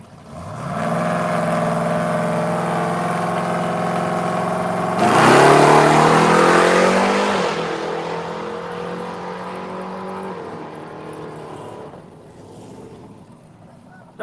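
Mopar and '55 Chevy drag racing cars revving loudly at a strip, a steady engine drone that swells into a sharp burst of acceleration, then fades as the cars pull away.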